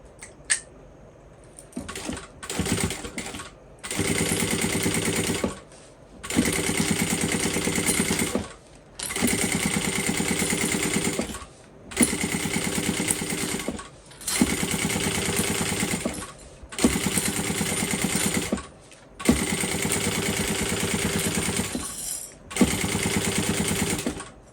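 A sewing machine stitches a bowler bag in repeated bursts of rapid, even mechanical whirring, about eight runs each a couple of seconds long, separated by short pauses, loud and close with no talk.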